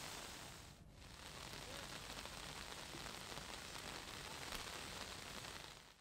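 Heavy monsoon rain falls steadily in a flood-hit area, a dense continuous hiss of rain on surfaces with no talk over it.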